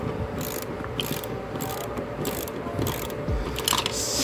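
A ratchet with a 7/16 socket loosening a passenger seat bolt in a 2007 Chevrolet Silverado, giving a steady, close, continuous clicking pawl rattle throughout.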